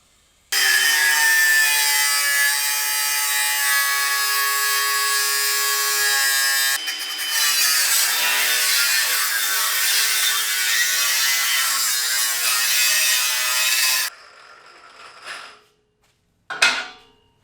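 A power cutting tool grinds through a metal part of a Nissan 4x4 engine for about fourteen seconds, loud and close with a harsh, steady whine that shifts partway through, then stops, followed by a few short bursts.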